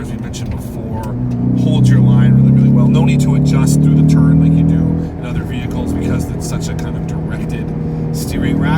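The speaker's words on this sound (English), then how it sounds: "Plus you can hear that wonderful sound," A 2020 Ford Mustang EcoBoost with the High Performance Package drives through bends, its steady loud exhaust drone running continuously beneath someone talking throughout.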